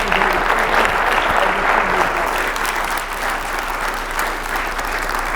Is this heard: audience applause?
yes